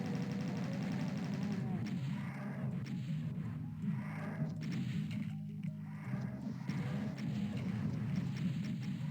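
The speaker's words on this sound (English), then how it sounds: "So you spam chain gun, and you should be okay." A chaingun fires in a Doom map set, Spectrum Descent, as a dense, continuous rattle mixed with game explosions and monster noise, steady and loud throughout.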